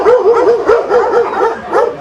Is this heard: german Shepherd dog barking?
yes